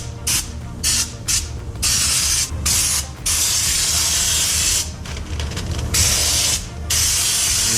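Spray gun laying rust-protection undercoating onto a Jeep floor, a loud steady hiss broken by short gaps where the trigger is released between passes.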